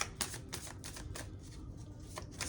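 A Light Seers tarot deck being shuffled: rapid papery riffles and slaps of cards in quick repeated bursts, close and fairly soft, with no talking.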